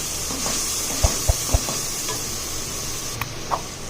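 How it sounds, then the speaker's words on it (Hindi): Spice masala with cumin and salt roasting in a pan for chicken karahi, a continuous hissing sizzle broken by several sharp knocks of a spoon against the pan, no talking. "मसाला कितने अच्छे से भुन रहा है"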